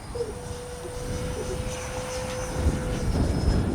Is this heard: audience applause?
no